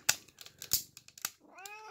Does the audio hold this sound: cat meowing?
yes